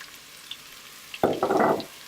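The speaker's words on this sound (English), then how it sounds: "So we're gonna go into our hot pan here with our sweet potatoes." Sweet potatoes with chopped ginger hit a hot pan, a sudden loud sizzle that bursts in and keeps crackling, close and clear over a quiet background.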